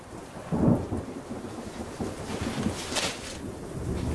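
Rain hisses steadily while thunder rumbles low, with a duller roll near the start and another swell later; no talking.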